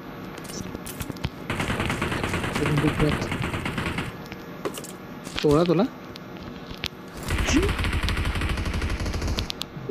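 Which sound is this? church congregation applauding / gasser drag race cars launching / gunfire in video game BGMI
gunfire in video game BGMI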